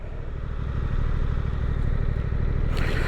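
A 2024 Suzuki GSX-8R idles steadily up close, its engine a low, even throb. The revs lift slightly partway through, and a brief rustle comes near the end.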